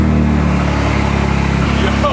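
A BMW M4 engine with straight-pipe valvetronic exhaust rumbles loudly at a steady idle with a raw, throaty note, close by, with a slight shift in pitch near the end.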